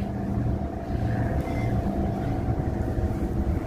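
Aboard a passenger ship at sea near Guernsey in the Channel Islands, a steady low engine rumble and rushing water fill the air, continuous and fairly loud with no talk over it.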